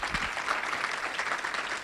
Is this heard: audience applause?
yes